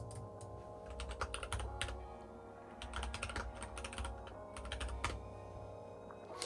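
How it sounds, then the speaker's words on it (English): Clacky computer keyboard typing in a quiet room, bursts of rapid keystrokes separated by short pauses, close but faint, with no voices. "Is this keyboard clacking annoying for anyone?"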